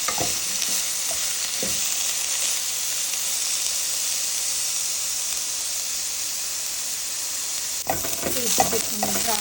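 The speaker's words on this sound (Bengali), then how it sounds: "এখন এর ভিতরে দিয়ে দিব পেঁয়াজ কুচি। এই পেঁয়াজগুলোকে একটু ব্রাউন করে ভেজে নেব।" Chopped onions fry until brown in hot oil, giving a loud, continuous close-up sizzle with a few stirring scrapes early on and a cluster of spatula knocks toward the end, no talking.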